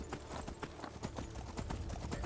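Quiet, steady clip-clop of a horse's hooves trotting in an even rhythm in the video game Skyrim, with faint background noise.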